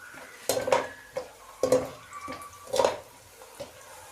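Cumin seeds and a few cinnamon pieces frying in a pot while mater pulao is being made, heard as soft sizzling broken by three or four sharp clinks and scrapes of a spoon stirring against the metal.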